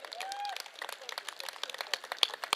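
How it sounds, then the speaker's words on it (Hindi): Scattered hand clapping from a small audience at an indoor sanitary pad demonstration, faint and uneven, with irregular claps continuing for a few seconds. "अरे ताली बजा दो"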